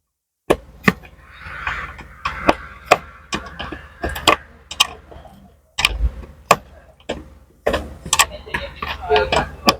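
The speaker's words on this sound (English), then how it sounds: "with a 10mm spanner, undo this pipe." A 10mm spanner works loose an air line fitting on the air suspension of a BMW X5, producing a run of sharp metallic clicks and ticks at close range, irregular and repeated throughout with faint background noise.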